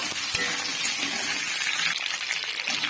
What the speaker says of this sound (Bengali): দিয়ে আবারও আলুটি এর মধ্যে ভালোভাবে নেড়ে চেড়ে নেব